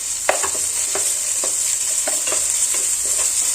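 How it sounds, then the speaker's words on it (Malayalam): Ginger garlic paste sizzles in a hot pan while a spoon stirs it, a constant hiss broken by a run of short, repeated scraping strokes. No one speaks. "ഇനി നമുക്കിതിലോട്ട് ഒരു 1/2 ടീസ്പൂൺ ഇഞ്ചി വെളുത്തുള്ളി പേസ്റ്റ് ചേർത്ത് കൊടുക്കാം."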